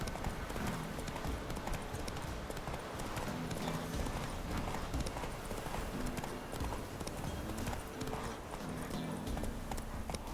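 Steady clip-clop of Roach's hooves, Geralt's horse in the video game The Witcher 3, trotting continuously at close range with a faint whinny and ambient game sound beneath.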